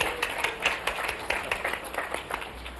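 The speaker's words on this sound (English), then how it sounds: "let's give him a big round of applause" An audience at an industry forecast event gives a round of applause, a steady crowded patter of clapping throughout at moderate loudness.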